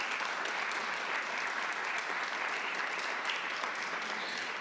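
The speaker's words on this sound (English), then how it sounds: "Let's give them all a round of applause." Sustained, dense audience applause at an annual women's forum, a full room clapping steadily and loudly with no break for the whole stretch.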